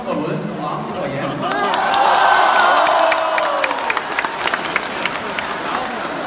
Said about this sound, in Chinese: 谢谢大伙的掌声鼓励